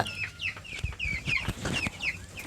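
Broiler chickens in a coop built for twenty-six birds cluck and chirp in quick, overlapping bursts, with several close, fairly quiet calls forming a busy, continuous chatter.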